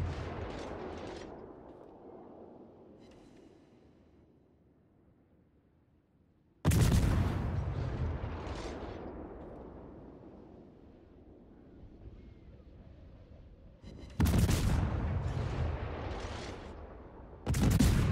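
Naval guns on the Japanese destroyer Kitakaze fire at a Cleveland cruiser in World of Warships, three booming salvos spaced several seconds apart, each with a long rumbling decay over wind and sea ambience.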